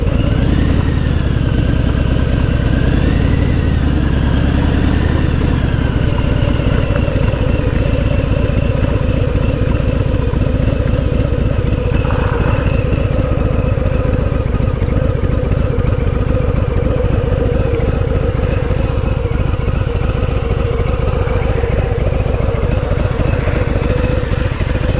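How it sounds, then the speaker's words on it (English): A 2020 Harley-Davidson Fat Bob in Performance Orange rides past with a loud, steady V-twin engine rumble, rising and falling through gear changes with a constant low throb and rattling exhaust, no talk. "We can do a little once around on the bike."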